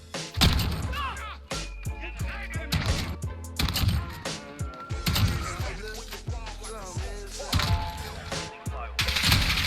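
Rapid bursts of MK2 carbine fire in the Modern Warfare shooter, repeated sharp cracks and thuds from a close-range firefight spread across the stretch, with a voice talking over parts of it.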